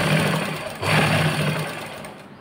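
A sewing machine runs steadily, stitching fabric from an old T-shirt being made into a top, with a brief change in motor pitch partway through and no talking.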